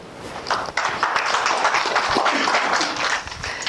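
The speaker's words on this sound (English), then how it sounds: "Please give us a round of applause for Jeff Cadane." An audience applauds a speaker at an event in a dense, continuous patter of many hands, fairly close, holding steady then tapering slightly near the end.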